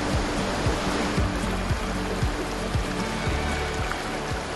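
Clear fresh water flows steadily in a rainforest creek near a swimming hole, a close, continuous rushing and babbling with no voices.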